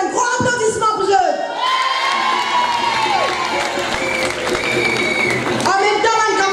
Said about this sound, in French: me demande un grand applaudissement pour eux